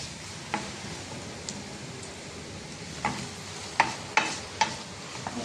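Liver fry masala stirred in a pan on the stove, quiet background sizzle broken by a handful of sharp scraping clicks of the spoon against the pan, spaced irregularly and growing more frequent toward the end.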